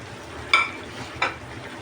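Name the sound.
chicken liver being stirred and frying in a pan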